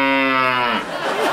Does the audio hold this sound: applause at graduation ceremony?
no